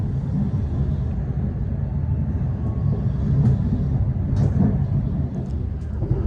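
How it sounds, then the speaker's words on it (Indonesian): The Menoreh passenger train pulls out of Weleri station at night, giving off a steady, low rumble heard from on board, with brief faint rattles. "jadi kereta api Menoreh sudah berangkat dari stasiun Weleri ya"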